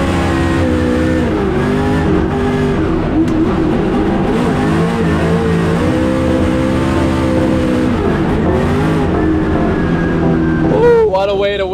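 Ford Mustang RTR with 1100 horsepower charging up the Goodwood hill climb, a loud sustained engine roar with shifting harmonics that stays close throughout, people talking over it.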